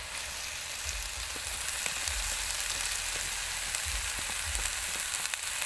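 Tok Mol frying in a pan with a little water, a loud steady sizzle close by, punctuated by occasional scraping and clattering as it is stirred and mixed.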